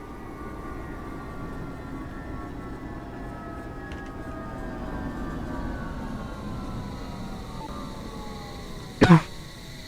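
One short, sharp cough bursts out near the end, loud and close, after a stretch of low steady hum with faint tonal whines.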